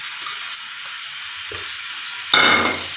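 Medium-sized onions go into a frying pan of warm cooking oil: quiet light crackling at first, then a sudden loud sizzle as they hit the oil, settling into steady frying.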